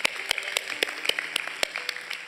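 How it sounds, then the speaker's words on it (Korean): Church congregation clapping together during a Sunday service, a crisp, rhythmic run of sharp handclaps at a steady beat, fairly close, with no talk over it. "네, 우리 하나님께 감사의 박수를 드리겠습니다."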